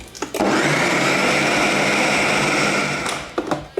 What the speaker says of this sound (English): let's give it a mix whilst we're doing it